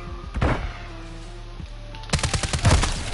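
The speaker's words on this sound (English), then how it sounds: "gunshot." Gunshots in a video game, sharp loud bursts of several rapid cracks, one early and a denser cluster near the end, with a faint electronic tone and thuds in between.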